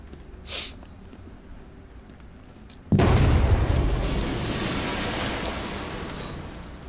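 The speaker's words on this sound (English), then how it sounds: "I need to be at a safe distance before I detonate" A charge is detonated in the Batman game Arkham Knight, bursting into one sudden loud boom and then a long rumbling roar that holds on for several seconds after a quieter stretch.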